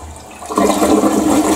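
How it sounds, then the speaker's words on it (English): A toilet with a large tank and the water supply set very low flushes close by, a sudden rushing surge of water that starts partway in and continues loud to the end. "So now we're going to flush it"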